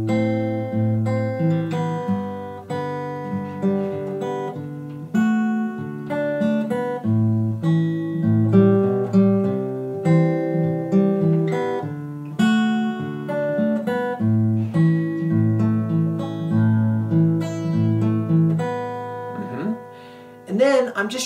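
A guitar plays the chorus of a song, picked chords and melody notes, steady and ringing for about twenty seconds, with no talking.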